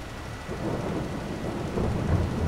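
Steady rain with a low rolling rumble of thunder from the Farm Simulator 22 video game, an even wash of noise that swells slightly toward the end.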